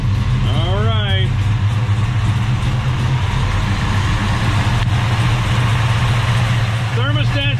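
A 1969 Dodge Charger engine idles steadily with a low, continuous rumble throughout, loud and close, with brief voices at the start and end.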